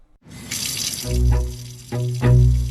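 Water pours steadily from a tap into a sink, a close, continuous rush that swells and cuts off in bursts as the flow is turned on and off, with no talking.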